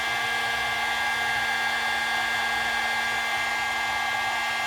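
A heat gun blowing hot air onto a part being warmed for powder painting, a loud, constant whirring hiss with a steady tone and no pauses or talk.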